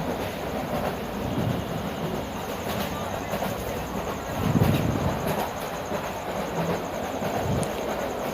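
Burimari Express train rolling through Kahalu railway station, a steady rumble of wheels and carriage noise heard from inside the coach, with a louder surge midway and no talking.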